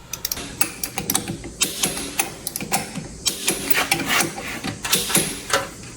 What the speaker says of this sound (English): So we're going to go ahead and torque this down even.